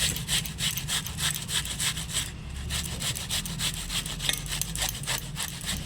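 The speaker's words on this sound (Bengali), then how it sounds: "এবার এই ঘষনি দিয়ে একটু ঘষে নেব" Onions are rubbed against a hand grater in a quick, steady back-and-forth rasping rhythm, close and continuous, with no voices.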